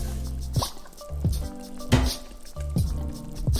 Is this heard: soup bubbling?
yes